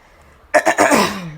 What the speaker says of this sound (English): so I may clear my throat a couple of times through this video